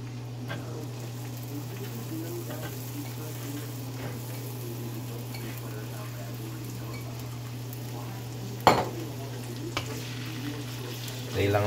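Green peas frying in hot oil for fried rice, with a steady sizzle and crackle running throughout and a brief clatter of stirring near the end.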